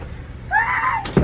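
A stuck door is pushed open, giving a drawn-out creaking whine followed by a dull thump as it gives way, over a low background rumble.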